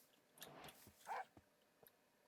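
Dog barks and yips from a Minecraft game, a few short bursts spread across the moment, fairly quiet and close, with no talking over them.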